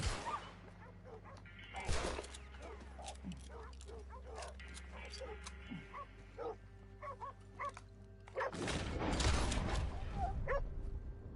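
Dogs barking and yipping in the open-world game Red Dead Redemption 2, a burst of several barks over game music and ambience, growing louder and busier toward the end, with someone talking over them.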